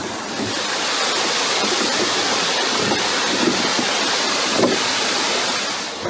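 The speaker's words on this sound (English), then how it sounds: "we're not to go too close to the waterfalls" Waterfalls in Kyushu, Japan roar as a steady, dense wash of rushing water, loud and continuous with no voices.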